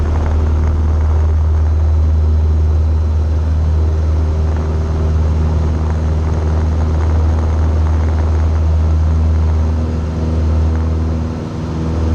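Inside the cabin of a small propeller airplane, a loud, steady engine drone and prop hum hold throughout the takeoff run, with a constant low rumble and no voices.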